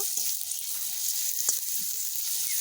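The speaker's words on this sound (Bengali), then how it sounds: "এবারে দিয়ে দেব সাদা তেল থেতো করে রাখা রসুন রসুনটাকে হালকা ভেজে নেব" Crushed garlic frying in white oil in a hot wok, a close, steady bright sizzle with a few soft stirring knocks and no talk.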